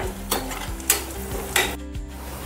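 Garlic fries in hot oil in a pan for pithla, a loud, steady sizzle broken by several sharp spatula scrapes and stirring strokes, close up with no voices.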